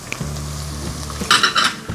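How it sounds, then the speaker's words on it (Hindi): Whole garam masala spices frying in hot oil for beef keema, a steady close sizzle that swells into louder crackling bursts toward the end, with no voices. "अब इसको 1 मिनट तक हम फ्राई करेंगे।"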